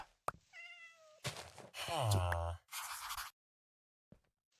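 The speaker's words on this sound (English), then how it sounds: "A lot of cats in this village, too." Cats meow in a village in the video game Minecraft, several distinct meows one after another, fairly close and clear, with short gaps and soft thuds between them.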